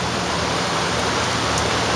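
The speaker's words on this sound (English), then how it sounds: "this rain is bringing a little wind with it, and it's actually blowing in here into the shop" Rain driven by wind falls outside an open workshop, a dense steady hiss of drops close by, continuous and fairly loud with no voices.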